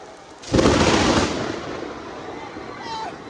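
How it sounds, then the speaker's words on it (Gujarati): A sudden loud crack of thunder from a lightning strike during heavy rain in Surat bursts in and rolls off over a couple of seconds, leaving a low rumble with faint voices in the background. "હા વીજળી પડી"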